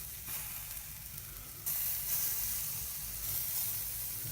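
Steak sizzling in butter flavoured with garlic, dill and thyme, giving a steady close hiss that jumps louder partway through and then holds.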